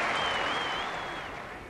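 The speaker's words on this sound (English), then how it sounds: "he gets a tremendous round of applause for it" Cricket crowd at a 1979 World Cup semi-final between England and New Zealand applauding a boundary, a dense sustained clapping that gradually fades.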